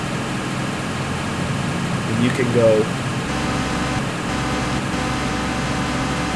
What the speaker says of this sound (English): It's got that engine noise.